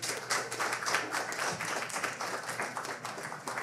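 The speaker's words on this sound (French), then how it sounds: "Une bonne applaudissement encore une fois." A crowd applauds steadily, with dense overlapping claps sustained at an even level throughout, no voices rising above it.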